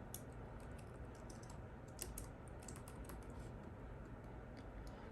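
Soft, fast clicking of keys on a computer keyboard, a steady stream of light taps heard close but quiet, with no talking.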